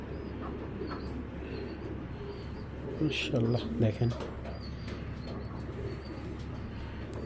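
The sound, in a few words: pigeon cooing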